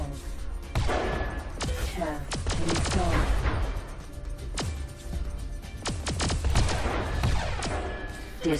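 Small clank guns fire during a space battle in X3: Albion Prelude, a dense run of sharp booming shots and crashes layered over a continuous rumbling game soundscape, loud and close.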